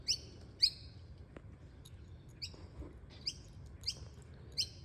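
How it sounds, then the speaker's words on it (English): Small birds of a little family flock give short, bright chirps outdoors, about six evenly spaced calls over quiet background noise, close but not loud. "it's a whole little family of birds have just arrived"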